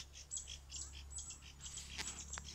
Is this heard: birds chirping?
yes